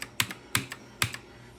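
Keys clack on a Black Shark gaming keyboard in a few quick, close, crisp strikes, isolated and fairly quiet with short gaps between presses.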